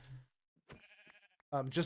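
Short bleats from sheep in the video game Minecraft, a couple of distinct tonal cries separated by brief silence, with a voice speaking at the start and end.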